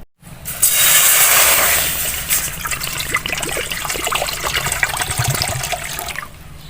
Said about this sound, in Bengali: প্রথমে চুলায় আমি একটা কড়াই বসিয়ে দিলাম কড়াইতে দিয়ে দিলাম পানি